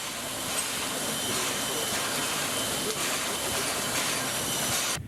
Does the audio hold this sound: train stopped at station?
yes